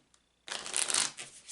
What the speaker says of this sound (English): that sound you hear is me shuffling cards on the table.